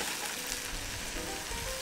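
Capers sautéing in a pan for a ravigote sauce give off a steady, close, even sizzle and crackle of frying throughout, with no voices over it.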